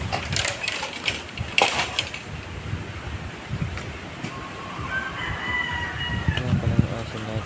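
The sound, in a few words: chickens clucking and crowing near coop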